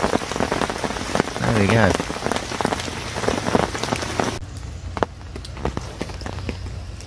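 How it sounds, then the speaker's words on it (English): Steady rain patters down on surfaces beside a lake during a fishing session, a dense close hiss with scattered heavier drops, while someone speaks briefly partway through. "I just thought I'd do you a little bit of a vid for the old rain tapping it down."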